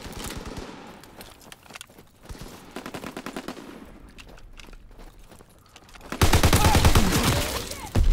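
Rapid automatic gunfire in the shooter WW2, with fast rhythmic bursts that start and stop, a quieter stretch with footsteps, then a loud, dense volley near the end.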